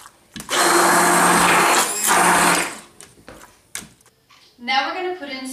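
An immersion blender purees cooked pumpkin for a pie, a loud steady whirring buzz that runs for about two seconds, dips briefly, then continues, before stopping and a voice speaking.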